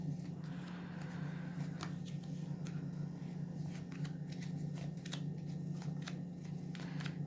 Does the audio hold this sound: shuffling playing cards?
yes